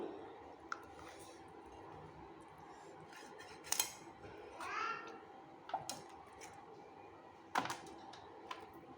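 A knife works through a hilsa fish full of roe on a kitchen board, giving scattered sharp clicks, taps and short scraping cuts at irregular intervals, fairly close and quiet, with no talking.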